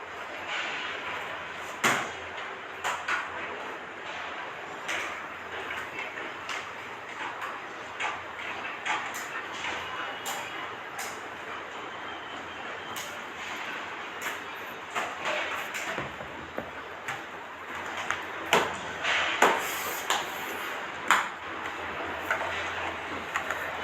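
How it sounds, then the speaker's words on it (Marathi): Cabbage and tomato frying in a pan are stirred, giving steady sizzle with scattered scraping clicks from the spoon against the metal, moderately loud and close throughout. "मस्त भाजी हलवून मस्त ते सर्व सामान एकजीव करून घेते"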